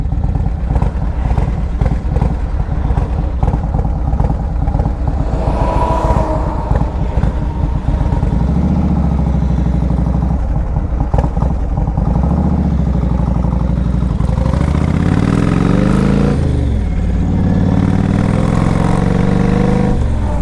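A 2005 Yamaha Road Star 1700cc air-cooled cruiser motorcycle idles low with a loping, thumping rumble, then revs up several times in loud, close swells before settling back.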